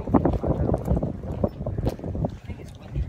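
Gusty wind buffets the microphone in low rumbling bursts, with a voice talking over it outdoors.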